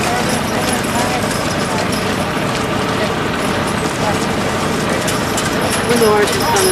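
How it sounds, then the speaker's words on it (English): Horses, likely Belgian draft horses, clip-clopping along a road during a county fair parade, a steady hoof rhythm under constant chatter from nearby people and a low idling engine. "When the horses come, it's about the end of the parade."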